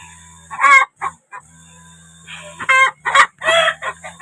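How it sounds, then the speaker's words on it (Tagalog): Hen clucking in short bursts after laying an egg in a chicken coop, several loud, close squawking calls separated by brief pauses over a steady low background hum. "nakaitlog na siya tapos na yan siya manitlog"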